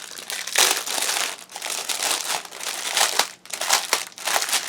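Plastic packaging of a diamond dot bead kit crinkles and crackles continuously as the bag is pulled open, close and steady with no voices.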